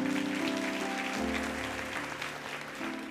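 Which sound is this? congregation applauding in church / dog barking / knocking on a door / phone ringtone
congregation applauding in church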